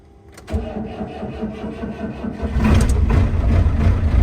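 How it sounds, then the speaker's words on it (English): An old Perkins four-cylinder diesel engine cranks and fires up from cold, catching after a short start and settling into a loud, close, rough knocking idle that grows heavier as it runs. "She sounds good. The old Perkins 4-cylinder."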